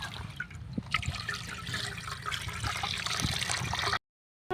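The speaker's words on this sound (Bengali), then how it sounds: "দেখুন এইভাবে পুরো জলটা কিন্তু আমি ছেঁকে নেবো" Water being strained through a gamcha cloth while making village-style palo, a steady close trickling and splashing that runs without pause and then cuts off abruptly near the end.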